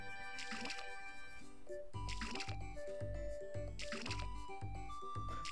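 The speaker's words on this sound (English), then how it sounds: "Let's water all the plants now." Watering plants in the farming video game Harvest Moon: A New Beginning, with repeated soft splashing pours in a steady rhythm over background music and game chimes.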